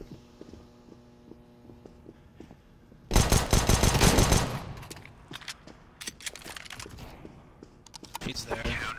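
Gunfire in the video game CS:GO, a pistol firing: a dense, loud burst of rapid shots lasts about a second, then scattered single shots and clicks continue through the rest.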